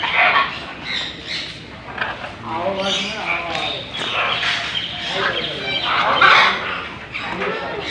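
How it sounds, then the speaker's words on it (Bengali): Macaws and other large birds squawk loudly in an aviary at Bangabandhu Safari Park in Gazipur on a hot day, harsh repeated calls rising and falling close by while someone talks over them. "এখানে তো এরা পাখি"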